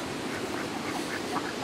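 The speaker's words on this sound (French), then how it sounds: "j'ai un trio de canards pékins." Pekin ducks quack in a small outdoor pen, a few soft nasal calls repeating close together over a steady background hiss, faint and without talk.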